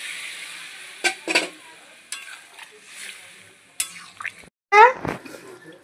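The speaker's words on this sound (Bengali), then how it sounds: "তো আমি এবার এতে জল দিয়ে দেবো।" Water splashes into a pot of chickpea curry that has been fried down with sour yogurt, giving short hissing bursts and stirring scrapes, with a louder sizzling gush near the end. No one speaks.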